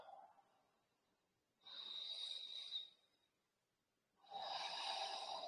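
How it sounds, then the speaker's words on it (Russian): Slow diaphragmatic breathing during a yoga session, two long, airy breaths close to the microphone separated by quiet pauses, each a soft, hissing rush of air. "В живот. Дышим диафрагмальное дыхание."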